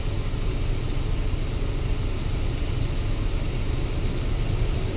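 Inside a moving Florida Bus Scania Premium coach, a constant low engine and road rumble fills the cabin, steady and unbroken with no talk.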